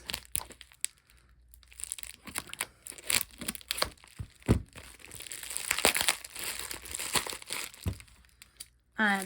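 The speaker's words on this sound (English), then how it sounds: "It has been taped up the wazoo, so it might take me a second, but it means my cards have been protected. So, I am just going to start trying to cut into this." A heavily taped mail package holding trading cards being cut open, with irregular crinkling, tearing and crunching of tape and packaging in bursts, mixed with a person talking.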